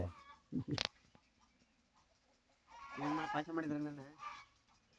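A small kitten meows in short, high cries close by, first a brief burst and then a longer wavering call after a pause, with faint voices in the background.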